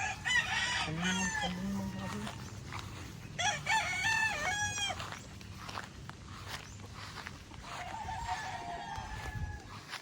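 Several chickens on a backyard poultry farm, including imported laying hens, crow and cluck in short bursts, with footsteps and voices of people talking nearby.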